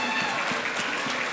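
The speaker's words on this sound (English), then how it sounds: "please give them a huge round of applause" A school assembly audience for grade 9 and 10 scholars and a Black History Month celebration claps in dense, sustained applause that fills the whole brief moment.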